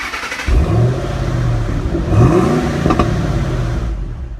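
The engine of an M50 Super Sherman tank runs loud and close during a ride, with a deep rumbling drone that rises and falls as it revs and accelerates.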